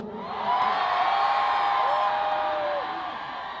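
A concert crowd at an outdoor festival closing ceremony in Chungju roars and cheers for a trot singer, a loud sustained mass of voices with high whoops and shouts rising and falling over several seconds.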